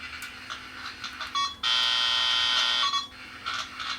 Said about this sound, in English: Got a tone on my phone jack. All you do is bring the wand near. You'll hear it.